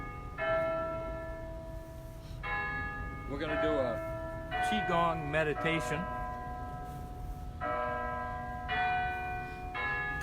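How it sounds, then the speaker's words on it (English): Church bells ring in repeated, clear metallic strikes that come in spaced clusters. A person talks briefly in the middle, and the bells carry on around the voice. "wait for the church bells to get done ringing"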